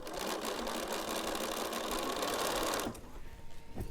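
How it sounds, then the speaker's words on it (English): A domestic sewing machine stitches a small half-square-triangle quilt block along a drawn line, running steadily and close for about three seconds before stopping abruptly, leaving only faint light clatter. "on this I'm sewing right exactly on the, if you draw a line, you're going to sew right on the drawn line"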